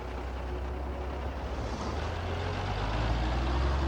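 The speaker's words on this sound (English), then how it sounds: "It's somehow fitting to have thumbed a ride in a sheep truck." A sheep truck's engine runs steadily, a low continuous rumble with road noise, close and without pauses, no talking.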